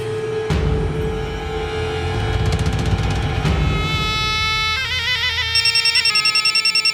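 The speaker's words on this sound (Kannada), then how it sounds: "ಅಕ್ಕ, ಫೋನ್ ಬರ್ತೈತೆ" A mobile phone rings in a Kannada TV serial scene, with a loud, continuous electronic melody of bright tones and rapid repeated beeps that sounds close and alone.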